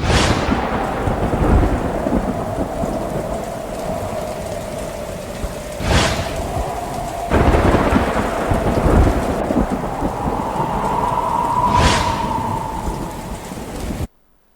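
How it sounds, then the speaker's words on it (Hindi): Heavy rain pours steadily on surfaces in Lahore while several sharp thunderclaps crack and rumble through it, loud and close, with no voices. "लाहौर के मुख्तलिफ इलाकों में तीसरे रोज भी कई तेज तो कहीं हल्की बारिश से मौसम खुशगवार हो गया।"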